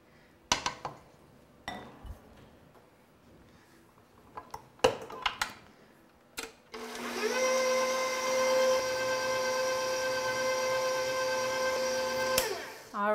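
Electric mixer blending fat-free cheesecake filling with sour cream, a steady loud whir running for about six seconds after some clinks and handling knocks.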